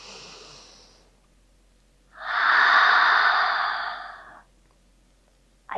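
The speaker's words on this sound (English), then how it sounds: "Take a slow deep breath in and let all the air out." A person takes a slow, deep breath during a calm guided breathing exercise. A soft, close inhale fades out, then a long, strong exhale follows after a short pause.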